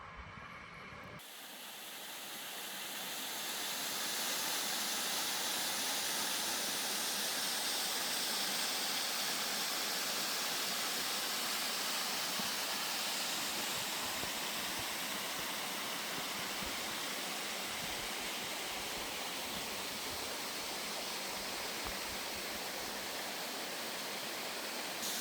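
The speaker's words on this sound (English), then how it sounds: "this is Polar Falls, which is a cascading waterfall about 15 meters" Polar Falls, a cascading waterfall about 15 meters high on the Fundy Trail, gives a steady, full broadband roar that swells in the first few seconds and then holds close and constant with no voices.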